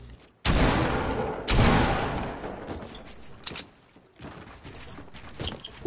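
SMG gunfire in the Hitman video game comes in loud, dense bursts of rapid shots, with a heavy volley early on, then scattered cracks trailing off with brief gaps.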